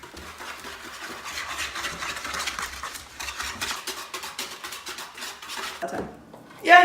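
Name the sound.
whisking baking ingredients in a bowl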